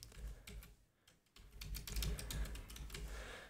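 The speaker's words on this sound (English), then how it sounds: "And now type the password" A password is typed on a computer keyboard in a steady stream of quick, close key clicks with a brief pause partway through, no talking.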